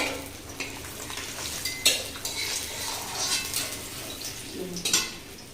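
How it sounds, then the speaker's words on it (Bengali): Oil sizzles softly in a pan as baspata fish fry, a utensil scraping and stirring, with occasional clinks of metal against the pan. "এইভাবে পুরো মাছটা ভেজে নেব সব মাছগুলো ভাজা হয়ে গেছে"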